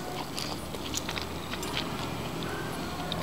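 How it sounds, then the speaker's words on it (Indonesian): Crispy fried frozen chicken thigh is bitten and chewed close to the microphone: quiet, irregular crunches and crackles repeating over a few seconds. "Rasanya kriuk banget kan, crispy."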